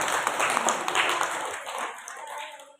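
Audience at a workers' training and awareness programme clapping, a steady patter of many hands that fades out toward the end.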